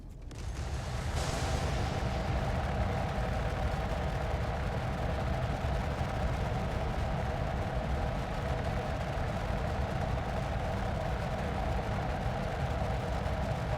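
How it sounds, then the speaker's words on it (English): A size 5 torpedo launches from an Idris warship in Star Citizen, giving a sharp whooshing burst at the start that settles into a loud, steady mechanical roar and rumble lasting throughout, with no talk. "Switching to size 5 torpedo. I'm gonna fire a torpedo a little later. Fire now."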